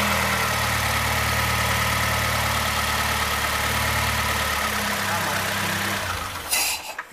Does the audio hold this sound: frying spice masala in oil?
no